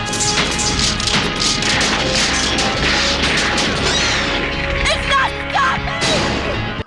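Loud, continuous crashes and booming blasts from 1980s movie laser blasts and explosions pile up in a dense, chaotic barrage, with sharp impacts and whooshing bursts throughout.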